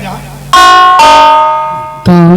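A doorbell rings in a comedic village folk theatre performance, sounding three separate ding-dong chimes close by, each with bright ringing tones that decay slowly, the second lingering longest.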